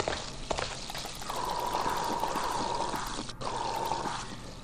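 Healing water lapped up in the Stonekeep sewer level, a steady pouring, trickling liquid sound filling the whole moment with a brief dip partway through.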